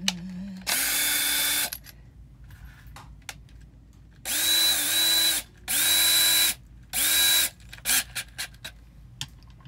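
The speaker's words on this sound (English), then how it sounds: "we're gonna drill some holes here." Power drill boring holes into a camper during gas strut installation, four loud whining bursts of about a second each, with pitch rising as the motor spins up, separated by short pauses and followed by a few brief taps.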